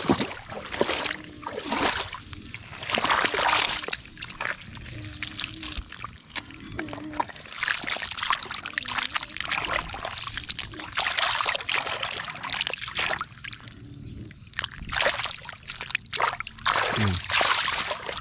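Irrigation water trickles and splashes into a drainage channel in an onion field, a steady wet dribble running throughout with someone talking over it.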